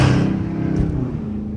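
A Dodge Charger R/T cruises along a highway with a cold engine, its steady drone loud and close, with a brief swell as traffic or the tunnel passes.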